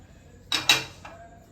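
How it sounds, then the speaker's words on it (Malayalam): A spoon scrapes and knocks twice against a pot or bowl as mashed boiled potatoes are mixed with other ingredients, followed by a fainter third tap, close and brief in a quiet kitchen. "ഇനി നമുക്കിതിൽ എല്ലാതും ഇട്ടിട്ട് മിക്സ് ആക്കാം."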